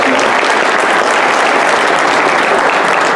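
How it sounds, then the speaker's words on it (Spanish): A crowd at a political rally breaks into loud, dense applause, an unbroken roar of clapping throughout with no voices on top. "un aplauso"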